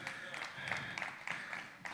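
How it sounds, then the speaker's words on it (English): An audience at the JaRIA Honour Awards 2022 ceremony applauds with brief, moderately loud scattered clapping that swells in short bursts across under two seconds. "Please give him a round of applause."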